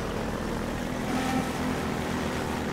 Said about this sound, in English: Are we gonna actually fight the chopper the whole way?